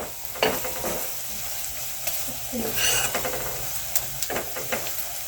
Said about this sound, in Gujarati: પછી ડુંગળીને ચડવા દેવાનામાં હલાવવાનું, નકર નીચે બળી જાય પાછું.